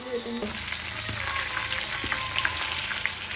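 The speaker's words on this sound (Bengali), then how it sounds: "তো এখন আমি মাছ ভাজি" Fish frying in hot oil makes a loud, steady, close sizzle and crackle throughout, with a couple of soft knocks from a utensil near the start.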